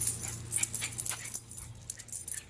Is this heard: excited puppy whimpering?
yes